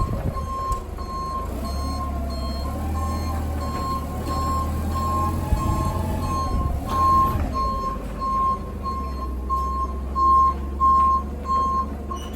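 A forklift truck moves about a yard, its reversing alarm sounding a steady run of evenly spaced beeps over a low diesel engine rumble, fairly loud and close.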